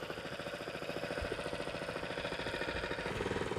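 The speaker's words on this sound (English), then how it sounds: "Choke off, cranks up, idles fine," A used greensmower engine idles steadily right after starting, a close, even mechanical chug with a fast regular pulse throughout.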